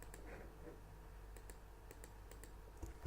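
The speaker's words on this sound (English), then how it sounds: "we type it Control C" Soft clicking keystrokes on a computer keyboard entering a copy shortcut, a few faint, quick taps close by against a low steady hum.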